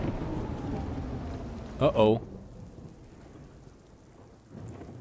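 Steady rain with a low rumble of thunder in the video game Death Stranding, a continuous wash of rainfall that thins out partway through, with a voice briefly speaking over it.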